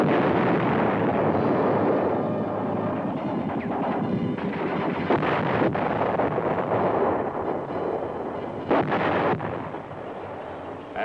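Heavy artillery and gunfire roar through an M-60 Patton tank combat exercise, with dense continuous blasts, rumbling explosions and sharp bursts, loud and close, including a prominent double blast near the end.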